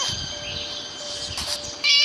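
A cat meows from inside a cupboard in the Scary Teacher 3D video game, its call held over steady game background tones, with a brief brighter burst near the end and no one talking.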